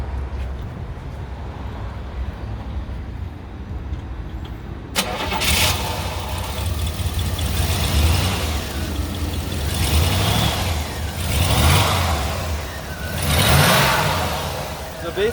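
A 1967 Buick GS400 V8 cranks and fires up after several seconds of quiet, then idles and revs in a few swelling bursts, loud and close.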